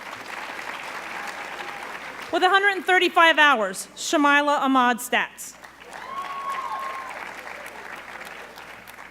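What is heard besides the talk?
audience applause at senior awards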